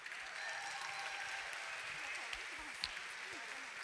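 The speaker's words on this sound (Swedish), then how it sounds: "Så han är också värd en varm applåd." Warm applause from a theatre audience after a performance of the musical Volund, a steady, fairly soft wash of many hands clapping with a few louder individual claps near the end.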